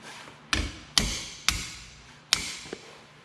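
Metallic strikes ring out while a large 1 1/16 castle nut is worked off a Kawasaki Mule's wheel hub during a brake repair: four sharp, close blows with short decays, followed by a softer tap.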